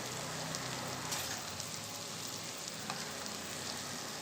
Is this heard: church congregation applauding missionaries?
no